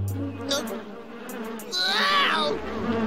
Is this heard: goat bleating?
no